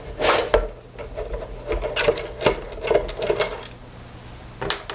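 Screws being worked out from under the rubber feet of an Aukey external hard drive enclosure, heard as close, dry scraping and rasping with repeated short clicks and taps at an uneven pace.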